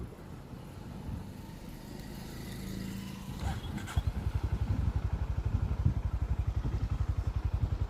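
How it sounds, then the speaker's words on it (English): Stock Honda H'ness CB350 motorcycle idling after a cold start, its exhaust a loud, close, steady rapid thumping that grows stronger and more pronounced partway through, with a brief clatter before the beat settles. "This is the raw sound of a stock CB350."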